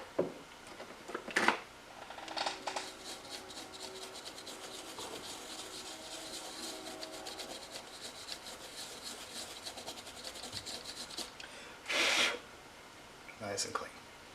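Brushing and rubbing scrubs a Game Boy Advance circuit board clean with 99% alcohol, a steady close scratchy rasp with a few louder bursts.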